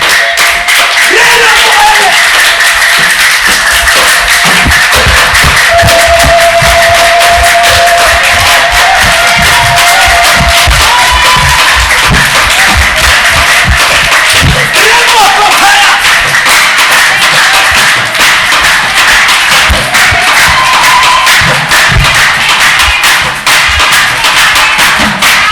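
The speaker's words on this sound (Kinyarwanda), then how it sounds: "Zamura ibiganza ukomera Imana amashyi mu izina rya Yesu." A church congregation clapping hands together in a loud, continuous rhythmic patter, with crowd voices and cheering mixed in throughout.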